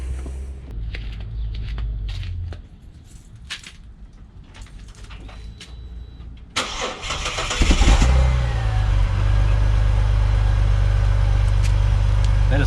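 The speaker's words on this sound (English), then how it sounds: "But let's start the car. Just want to see what it sounds like without it on." A Ford Territory with a piece of its exhaust removed cranks over after some quiet early noise, then catches and settles into a loud, steady, rumbling idle with a brief rise in revs.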